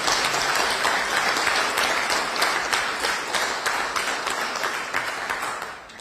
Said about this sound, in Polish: wielkie brawa dla pana ministra Ziobry